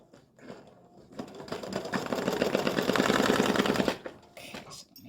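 An embroidery machine stitches a design onto card stock for a greeting card, a rapid mechanical rattling that builds to a steady, close whir for a few seconds before stopping.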